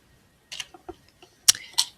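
A computer keyboard's Delete key and nearby keys tapped several times, sparse close plastic clicks in a quiet room.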